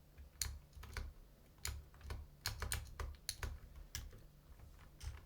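Rapid clicking keystrokes on a computer keyboard during HTML, JavaScript and CSS coding, irregular bursts of taps with short pauses, close and moderately quiet over a low hum.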